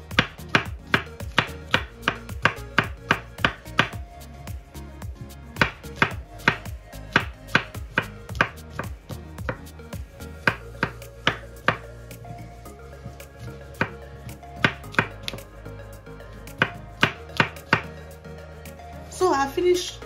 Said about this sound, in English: I'm going to be cutting my mushroom now. I'm going to chop this into tiny pieces.